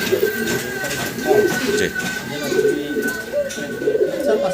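Fancy pigeons kept for sale cooing in soft repeated throaty calls at close range, with a steady background hum and someone speaking over them.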